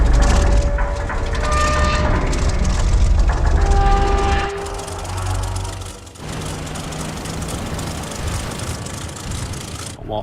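Tanks roll out from ambush in World of Tanks Blitz, a loud rumbling mass of engines and clanking treads with tonal horn-like blasts, continuous and heavy before easing slightly midway.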